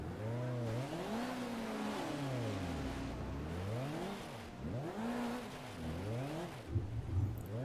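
A 1993 BTCC touring car in GTR 2, stuck in gravel, revs repeatedly in rising and falling surges, the engine whining up and down in pitch in a steady, moderately loud cycle.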